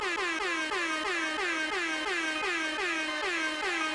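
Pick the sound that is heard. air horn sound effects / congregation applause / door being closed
air horn sound effects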